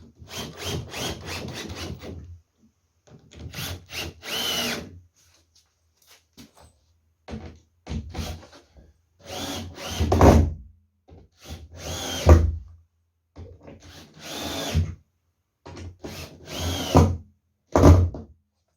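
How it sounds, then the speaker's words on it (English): A power drill drives screws into the wooden panels of a 2-foot quarterpipe 1.8 m wide, loud close bursts of whirring and wood creak, each a second or two long, separated by short pauses, about eight runs in total. "And then drive in the screws."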